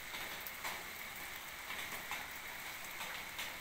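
Light, steady rain falls outdoors, a continuous soft patter with occasional slightly louder drops, heard alone without voices.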